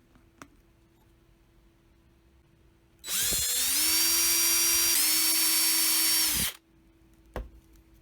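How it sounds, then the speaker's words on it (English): A power drill bores holes into a 16-inch Lissi baby doll's body during circuit bending, with one loud, high whine of about three and a half seconds whose pitch shifts slightly midway, framed by faint clicks and near-silence. "I mark the spots and then drill the holes."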